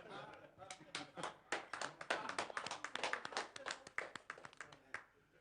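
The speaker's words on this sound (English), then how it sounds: "The audience clapping." An audience claps at a 2004 European poker tournament when a player wins a pot with pocket fours, a brief burst of hand claps that swells and fades over about five seconds, fairly close.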